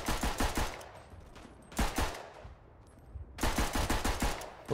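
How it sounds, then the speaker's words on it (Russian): Bursts of rapid gunfire from the World War I shooter game Verdun, loud clustered volleys of shots separated by short quieter gaps, with no talking. "Вот эти выстрелы, когда ты стреляешь."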